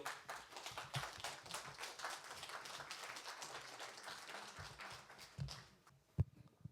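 An audience at a Korean peace symposium applauds speakers onto the stage, giving steady, fairly quiet clapping from many hands that fades out near the end, followed by a single sharp knock.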